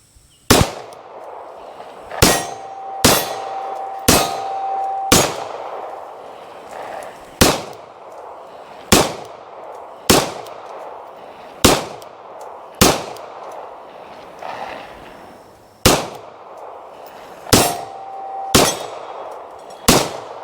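Sharp pistol shots from an IMI Jericho 941F at a shooting range ring out one at a time at irregular intervals, about a dozen loud cracks with brief echoing tails.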